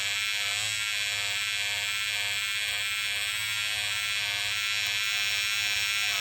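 A battery stitch eraser cutting away embroidery stitches gives a steady, close electric buzz that holds continuously without break.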